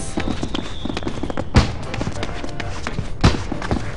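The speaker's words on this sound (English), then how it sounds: "Fireworks!" Fireworks pop in the Final Fantasy XIV game world, two sharp thumping bursts standing out over a busy bed of game ambience and scattered taps.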